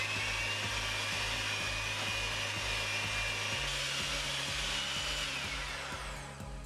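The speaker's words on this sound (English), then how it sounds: "Mix them all together with your mixer." An electric hand mixer whirs steadily while beating milk and vanilla extract for cinnamon roll icing, a continuous loud motorized hum with a slight shift in pitch partway through.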